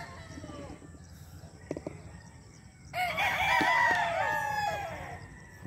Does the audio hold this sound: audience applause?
no